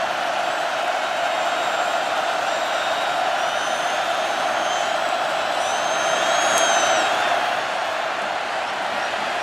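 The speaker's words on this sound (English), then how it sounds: "Crowd gets louder and louder." College football stadium crowd at North Carolina versus Virginia Tech on a third down: a sustained roar that swells slightly in the middle, with faint whistle-like tones riding on top.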